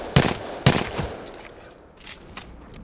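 RE-45 pistol fire in the video game Apex Legends, two sharp loud bursts close together followed by fainter trailing shots and a couple of distant pops, heard alone without speech.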